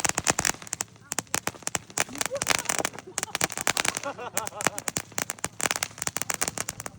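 New Year firecrackers pop and crackle in rapid, dense volleys, sharp bursts overlapping at varying distances, with voices talking underneath.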